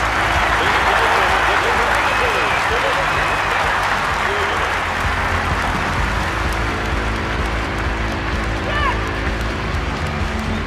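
Dense crowd applause and noise fill a volleyball arena in the London 2012 Olympics video game, a steady loud roar throughout with faint babble.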